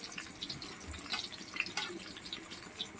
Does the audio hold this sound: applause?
no